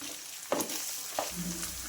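Mutton pieces browning in a pan make a faint, soft sizzle, broken by two brief scraping stirs.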